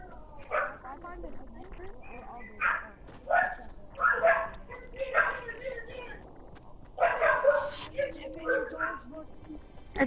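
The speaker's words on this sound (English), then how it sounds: "It's my dog." A dog named Allie barks repeatedly in uneven bursts over about ten seconds, moderately close, with quieter gaps between the barks.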